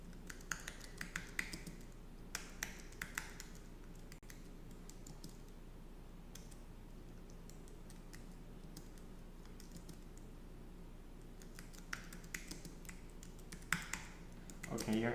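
Computer keyboard typing in bursts of quick clicks, with pauses between runs, heard under a steady low room hum while a person talks.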